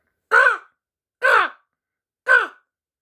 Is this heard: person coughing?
no